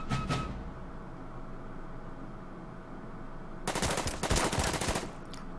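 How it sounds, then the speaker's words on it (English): Bunkers open fire in the strategy video game Order of Battle, set on the Burma Road during the fall of Rangoon: a dense, loud burst of crackling gunshots after a low steady game rumble, sounding alone. "the bunkers take some shots first"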